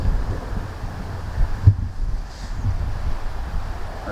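Wind gusts buffet the microphone on a winter golf course, a loud continuous rumble with one sharp knock midway.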